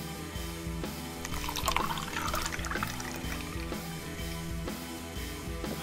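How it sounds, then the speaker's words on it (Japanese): Kirin Lager beer is poured into a beer mug, a continuous bubbling, gurgling pour that swells briefly near the middle, with no voices. "キリンラガービールですね。"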